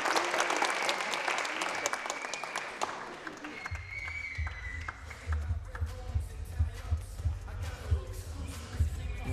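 A table tennis crowd at a T2APAC team fixture bursts into bright applause for a Jun Mizutani pick, the clapping dense for the first few seconds before giving way to talk over a low hum.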